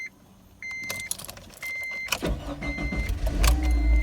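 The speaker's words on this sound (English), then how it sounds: "Let's go and see if this thing fires up. Put it in the ignition." A Honda Insight with a freshly changed battery comes to life: dashboard chimes sound in repeated tones, then a brief mechanical whir and the engine cranking and catching into a low rumble, close by.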